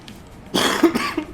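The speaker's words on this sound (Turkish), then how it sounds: "Öksürük tuttu." Someone coughs and clears their throat close to the mic during an Overwatch gaming session. The sharp, raspy bursts come after a quiet moment and are followed by a couple of smaller throat-clearing sounds.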